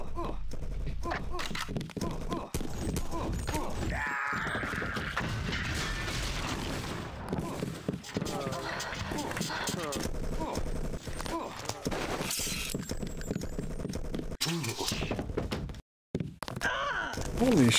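Dense gunfire in the video game Deus Ex, rapid overlapping shots and impacts bursting through a noisy firefight, with a player speaking over the action.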